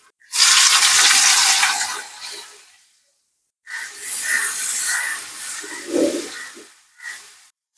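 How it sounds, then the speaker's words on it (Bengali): Sliced onions hit hot oil in a pan for a spinach and taro root curry, giving a loud hissing sizzle that fades, then a second burst of frying a moment later. "ওই তেলে দিয়ে দেবো পেঁয়াজ।"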